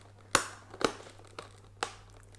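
Plastic wrapping being torn and crinkled off the box of a Papalook HD 1080p pa552 live streaming webcam, heard as four sharp rips spaced about half a second apart, close and fairly quiet with a low hum underneath.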